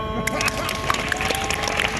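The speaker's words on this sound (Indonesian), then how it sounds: "Tepuk tangan." A theatre audience claps in a dense burst of applause after a monologue performance, with scattered sharp claps and some voices mixed in.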